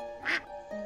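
A duck gives a single short, bright quack over a soft, steady background, close and clear, with no voices.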